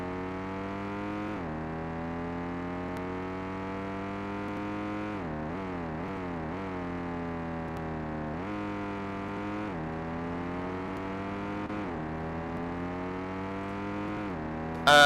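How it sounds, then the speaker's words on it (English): Race car engines whine steadily in a Roblox Formula racing game, pitch climbing through gears and dropping on shifts, a continuous synthetic roar with no voices. "Can you hear the engine sounds?"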